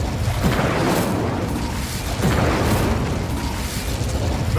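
The Incendio fire spell cast in Hogwarts Legacy, a loud sustained roaring whoosh of flame with a couple of swelling bursts, steady and close throughout.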